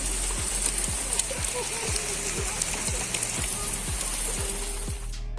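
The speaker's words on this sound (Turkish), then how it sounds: "iri taneli, iyi adam ıslatacak bir yağmur yağıyor yani şu anda" Heavy rain with large drops pours steadily beside the Nidelva river in Trondheim, a dense continuous hiss and patter lasting throughout, with a faint voice murmuring underneath.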